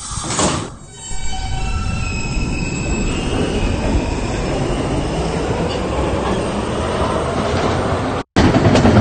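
R160B subway car on the B line rolling steadily along the rails, a continuous loud rumble with wheel squeal and clatter, heard from inside the car, ending with a brief cutout.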